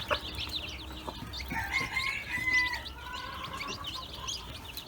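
Bantam hen with her chicks, soft repeated clucks and thin high peeps scattered over a steady outdoor background, fairly faint and close, with no talking.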